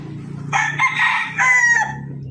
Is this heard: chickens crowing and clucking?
yes